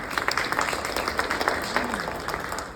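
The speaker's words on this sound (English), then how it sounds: "the last of you clapped right on cue" Audience applause at a comedy show, a dense, steady patter of many hands clapping together for nearly three seconds, with a brief voice faintly underneath.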